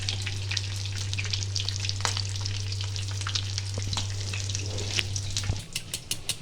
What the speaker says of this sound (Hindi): ये टिक्कियाँ फ्राई हो रही हैं